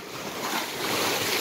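Ocean surf breaks on a beach at Garrucha, Spain, a continuous loud wash of waves and spray close by, with wind buffeting the microphone and no talk.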